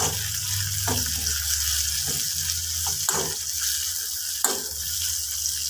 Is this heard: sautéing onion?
yes